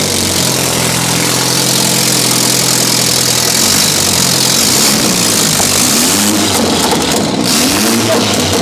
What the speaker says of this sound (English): Do you think it sounds cool if we start the car without the downpipe?